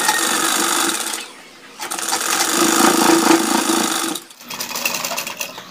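Sewing machine running stitches along a kurta collar, fast steady whirring bursts nearby, with two short pauses where the stitching stops and restarts.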